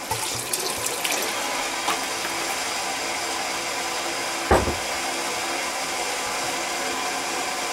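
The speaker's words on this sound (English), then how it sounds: "I'm going to add just a little bit more sherry." Sherry poured into a pot of simmering shrimp bisque makes a steady, rushing liquid wash close by, with a brief knock partway through and no talking.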